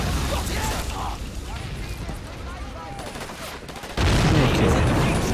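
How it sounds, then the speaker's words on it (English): Sustained gunfire in the World War II strategy game Men of War: Assault Squad, a dense continuous rattle of shots with a louder burst near the end, with no talking over it. "That gun at work."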